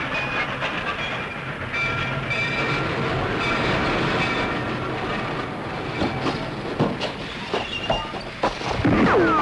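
A train rolls past in a commercial, a steady broadband rumble with rail clatter and scattered squeals and clanks toward the end, fairly loud throughout.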